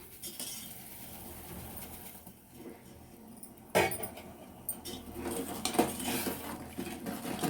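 Sugar poured into a pot of payasam on a home kitchen stove, giving a scattered granular rattle and a few sharp metallic clinks against the pot, close and moderately quiet with no talking.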